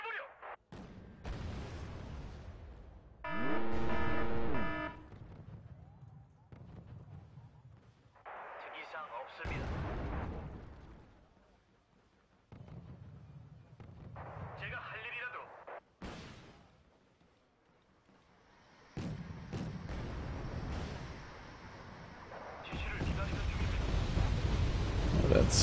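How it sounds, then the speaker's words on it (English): Artillery bombardment in the strategy game Wargame Red Dragon: several separate booming impacts and rumbling blasts spaced irregularly, some distant and some loud, with speech between them. "I will bombard this place."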